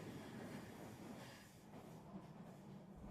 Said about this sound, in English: The train begins to slow down.